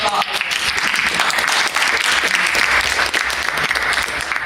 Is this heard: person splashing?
no